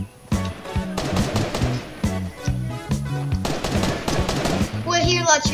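Gunfire in the Fortnite video game, a rapid string of loud sharp shots with steady rhythmic bursts and a busy battle backdrop, continuing nearly throughout with a brighter whooshing effect near the end.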